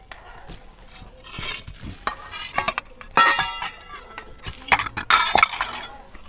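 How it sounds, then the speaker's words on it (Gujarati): A spoon stirring soaked chutney into potatoes in a metal pot, with irregular scraping strokes and sharp clinks against the pot, no talk. "હવે આ ચટણી આપણે પલાળીને રાખી હતી એ હવે આમાં નાખીને મિક્સ કરી નાખશું"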